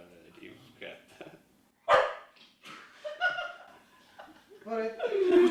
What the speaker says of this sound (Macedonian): Кучето! Кучето!